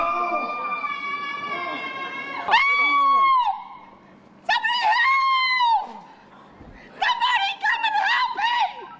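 A puppy barks and howls at a major emergency drill at the Sydney Cricket Ground, with repeated yelping, howl-like cries in several bursts and a siren-like wail mixed in, fairly close.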